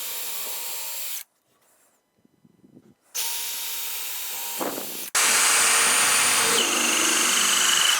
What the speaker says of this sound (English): that's where I'm gonna drill the holes